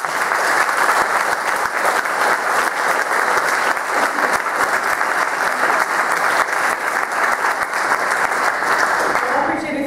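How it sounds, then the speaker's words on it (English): Sustained, loud applause from a large crowd continues steadily for the full ten seconds, dense and even with no pauses. "they deserve the biggest round of applause of all"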